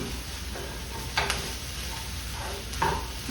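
Carrot, beans, peas and coconut stir-fry on high heat in a pan, a steady close sizzle with a few scraping stirs of a utensil, no talking.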